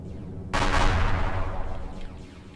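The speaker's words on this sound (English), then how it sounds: "That destroyer's shooting at me." A destroyer spaceship opens fire on the player in Empyrion Galactic Survival, a sudden loud broadside blast that booms and rumbles on for about two seconds before slowly fading, with no talking over it.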